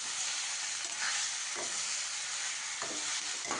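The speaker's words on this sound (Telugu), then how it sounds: "ఆ చికెన్ వేసేయండి. తర్వాత చికెన్లో ఉన్న ఆయిల్ బయటికి వచ్చే వరకు వేయించుకోండి." Marinated chicken frying in hot oil gives a steady, loud sizzle and crackle throughout, with occasional stirring scrapes and no voices.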